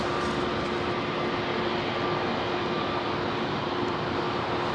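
A Finnair airliner arriving from Valencia touches down at London Heathrow, a steady, broad jet roar that holds evenly throughout with no voices.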